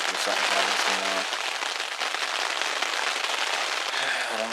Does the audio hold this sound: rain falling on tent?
yes